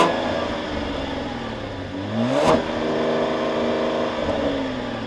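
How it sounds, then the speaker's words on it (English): A Cadillac ATS-V engine revs with its exhaust valves closed: a muted idle climbs into one quick rev, peaks, then drops back to a steady, subdued drone, close and fairly loud. "So here's going to be the rev with the valves closed"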